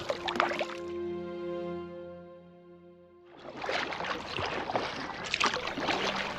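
A canoe is paddled down a river through drought country, with splashy water and paddle noise that fades into a steady humming tone in the middle, then returns fuller and closer.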